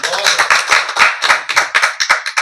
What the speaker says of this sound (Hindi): आसिफ भाई के लिए एक बार जोरदार ताली होनी चाहिए।